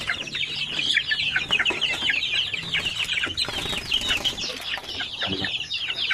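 Native chickens cluck and squawk busily at feeding time, a dense chorus of overlapping calls close by with occasional wing flaps.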